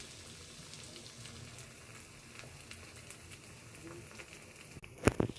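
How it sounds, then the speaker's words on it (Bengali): Eggs fry with a faint, steady hiss and light crackles in a pan, then a sudden loud clatter and scrape near the end. "ডিমগুলো দিয়ে নেড়ে চেড়ে নিলাম একটু ভাজা ভাজা করে নেব"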